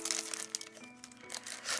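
Glossy hologram coloured origami paper printed with Marvel Avengers characters is unwrapped from its plastic package, giving a steady close-up crinkling and rustling throughout.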